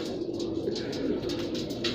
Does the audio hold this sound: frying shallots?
no